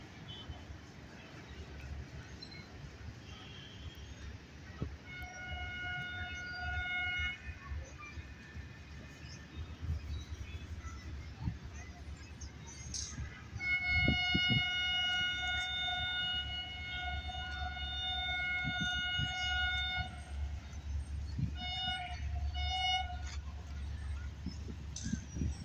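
Mehran Express, the Karachi to Mirpur Khas train, passing Drigh Colony Junction, its long steady horn sounding twice over a continuous rumbling roar of wheels and engine, fairly near and loud throughout.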